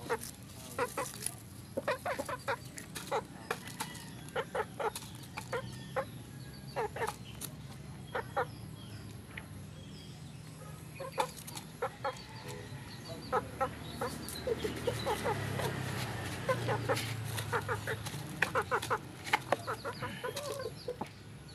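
Chickens cluck and cackle throughout in short, scattered bursts, moderately close, over a low outdoor background hum.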